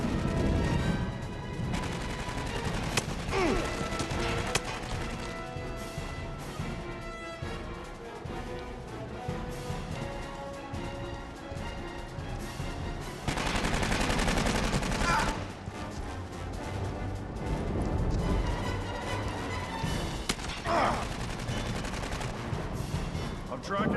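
Sustained turret gunfire in the game Aliens: Colonial Marines, dense rapid automatic bursts with loud surges and brief lulls, mixed with other combat noise and occasional speech.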